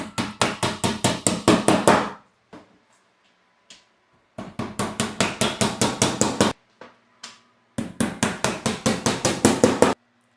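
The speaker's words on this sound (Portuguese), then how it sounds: "nós conseguimos bater aqui o prego e a travinha" Nails being hammered into the wooden back panels of a shelf kit, along with a small bracket: three runs of quick, evenly spaced, sharp strikes, each run about a dozen blows, close and loud, with a few stray knocks between runs.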